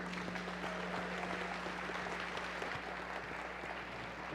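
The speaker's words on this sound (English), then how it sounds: "can we please get a big round of applause for our judges?" Applause for the judges from an audience at a robotics competition state championship awards ceremony, heard as a steady, fairly distant wash of clapping in a large hall.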